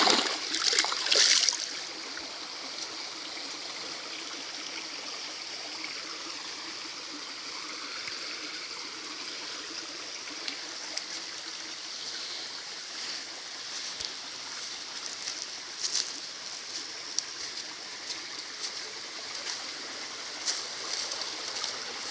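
Shallow waterfall stream at Cachoeira da Serrinha in Carmo do Cajuru, with low water, a constant broadband rushing and splashing, moderately near and steady throughout, a brief louder burst at the start.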